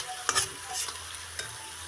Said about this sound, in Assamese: বিলাহীখিনি দি 5-6 মিনিটমান ভাজি ল'ম